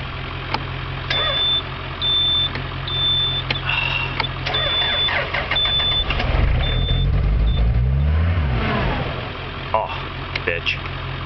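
An old machine with a 900-hour engine and an aged battery, cranking in uneven bursts before catching and settling into a rough idle, with a beeping tone early on and a voice speaking at times.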